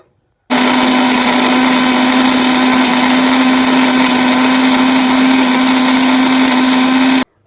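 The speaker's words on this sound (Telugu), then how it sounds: "ఇక నేనైతే మిక్సీకి తిప్పనా" A mixer grinder blending chutney with cumin and sesame whirs steadily at full speed for about seven seconds, a loud continuous motor drone with a strong hum, starting and stopping abruptly.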